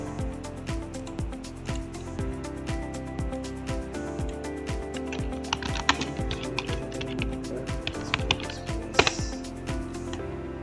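Keys on a computer keyboard clatter in a steady run of quick, fairly quiet taps, close by with no talk over them.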